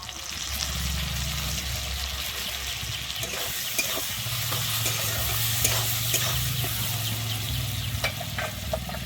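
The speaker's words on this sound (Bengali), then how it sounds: "আমি টমাটোর উপরে দিয়ে দিচ্ছি এবারে হলুদ দিয়ে আমি টমেটোটা খুব ভালোভাবে এখানে কষিয়ে নেবো" Tomato with turmeric sautéing in a pan for a Bengali rupa patia fish curry, a steady sizzle under repeated scraping stir strokes, close and continuous with a low hum beneath.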